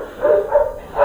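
Dogs at an animal shelter bark and yip from the pens in three rising bursts, fairly close and moderately loud, with no talk over them.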